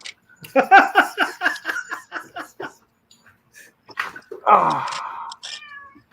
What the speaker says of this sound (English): Y'all see my cat trying to get out?